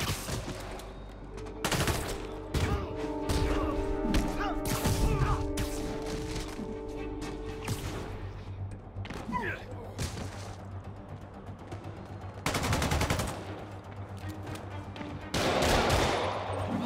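Gunfire from armed enemies in the Marvel's Spider-Man video game, with repeated bursts and sharp shots crackling in clusters over about seventeen seconds, mixed with thuds, crashes and game effects.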